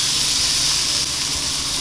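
Grated daikon added to a hot pan of searing oysters over low heat, producing a strong steady hissing sizzle with steam, close and continuous throughout.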